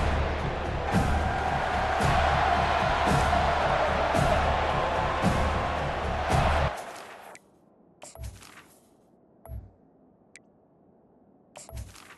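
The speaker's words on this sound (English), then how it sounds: "This crowd trying to make life miserable for this offense." Crowd noise in EA Sports College Football: a dense, loud roar with crackling bursts runs for about seven seconds, then cuts off abruptly and leaves near silence with a few scattered faint knocks.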